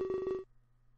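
A telephone is hung up and a busy signal follows: a rapid, loud series of pulsed electronic beeps, cut off by a click, leaving a low steady hum alone.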